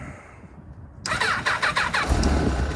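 A 2003 Kawasaki ZZR 1200 motorcycle on a cold day with a weak battery cranks with a rapid whirring starter, then the engine catches and settles into a rough, loud idle up close.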